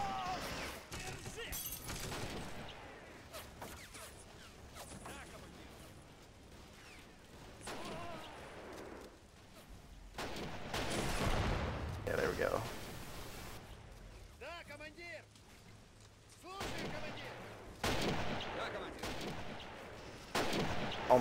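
Gunfire and explosions in the World War II strategy game Men of War: Assault Squad 2, scattered shots and booming blasts throughout, with people talking over the battle noise.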